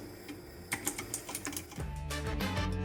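A FINEDAY 3.0 full-aluminum Bluetooth mechanical keyboard with aluminum keycaps is typed on in a short run of crisp, separate key clicks, then a steady sustained tone takes over.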